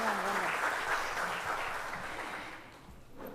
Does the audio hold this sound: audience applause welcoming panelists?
yes